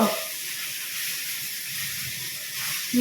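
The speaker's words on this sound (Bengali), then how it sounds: "জলটা গরম করতে দিয়েছি এই জল চলে গেছে গিজারে চালিয়েছি গিজার গরম" An electric geyser water heater runs while heating water, giving a steady, moderately loud hiss and rush of flowing water that continues unbroken throughout, with no talking.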